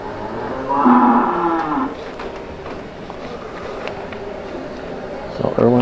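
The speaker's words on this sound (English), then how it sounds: "Erwin's having a little trouble here with her big Holstein cow" A big Holstein cow at a 4-H fitting and showmanship event lets out a loud, drawn-out moo, followed by scattered knocks and shuffling in an open arena with faint voices in the background.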